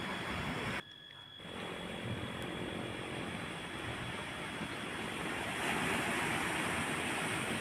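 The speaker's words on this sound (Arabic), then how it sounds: "صوت البحر بقى وريحة اليود" Sea waves wash against the breakwater blocks along the Alexandria corniche on a calm morning, a continuous broad roar that dips briefly early on and then swells slightly louder toward the end, with no talking.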